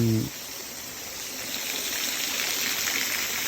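A waterfall and flowing stream at a reservoir in a rainy morning forest setting give a steady broadband rushing wash of water, close and continuous, after a brief voice at the start.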